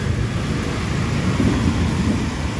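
Heavy rain pours in a dense, steady roar with a deep rumbling undertone, continuous and close throughout with no voices.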